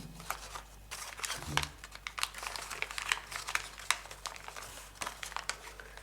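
Paper being folded and creased by hand for an origami jack-in-the-box, a string of close, crisp crinkles, taps and rustles in irregular bursts, quiet and without talk.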